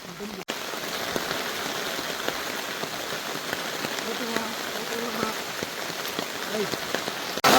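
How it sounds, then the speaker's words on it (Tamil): Heavy rain pouring down during a downpour with gusting wind, a dense continuous hiss of drops pattering on surfaces, close and steady throughout. "திடீரெண்டு மழை பெருத்துடுது"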